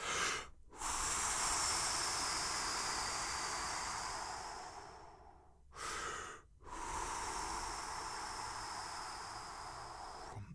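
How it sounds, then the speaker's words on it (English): Deliberate breathing up close: a sharp quick inhale followed by a long, slow, steady hissing exhale, repeated twice, with no talk. "deliberately breathe like this. A sharp inhale and slow, steady exhale."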